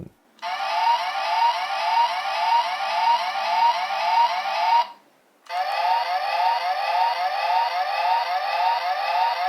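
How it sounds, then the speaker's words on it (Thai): An electronic siren from a Dekaranger DX Master License toy wails in a fast warbling pattern, loud and close, cutting out briefly halfway before starting again. "เมื่อกดที่ด้านบนอีกหนึ่งครั้ง ก็จะเป็นเสียงไซเรน"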